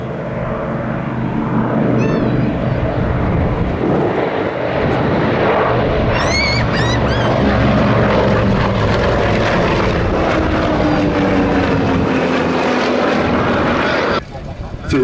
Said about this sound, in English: But the handling of the Provost won a lot of praise, plenty of power from the 550 horsepower engine.